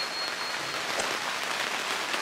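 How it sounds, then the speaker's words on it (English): Steady rain falls outdoors in typical British weather during a car detailing session, a dense, even hiss of drops with no gaps and no voices. "in typical British weather fashion, it started raining"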